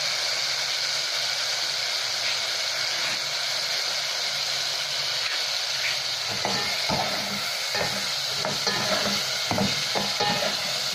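Spices sizzle and fry steadily in a hot pan while being sautéed for milkfish tinola, with a constant hiss and occasional scraping stirs and clinks of a utensil against the pan.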